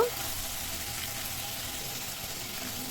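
Chopped potatoes hit a hot pan with a sharp initial sizzle, then settle into an even frying hiss for a Bengali egg and mixed vegetable dish, close and steady.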